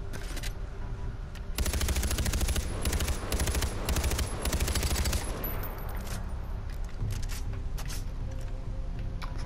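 Assault rifle fire in a Far Cry 4 firefight: long sustained automatic bursts, loud and close, followed by scattered shorter shots and single cracks as the shooting tapers off.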